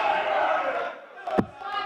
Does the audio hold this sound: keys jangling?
no